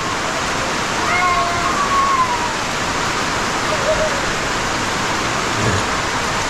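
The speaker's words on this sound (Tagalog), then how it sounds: "doon lakas ng ulan." Heavy rain pours over a farm field in the afternoon, a steady broadband wash of falling water heard close and loud throughout, with faint birdlike whistles briefly above it.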